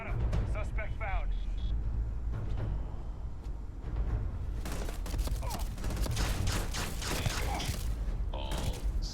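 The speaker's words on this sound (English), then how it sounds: "I don't know where the gunshots are coming from." Bursts of gunfire in the game Starfield crackle repeatedly amid mechanical clanks and effects, with a voice talking over the action.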